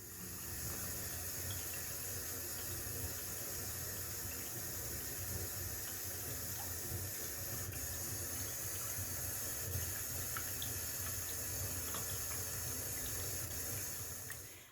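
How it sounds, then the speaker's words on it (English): A washing machine runs indoors in a steady, continuous watery hiss and churn, even and unbroken throughout at a moderate distance. "you can probably hear the washing machine, Gary's working upstairs"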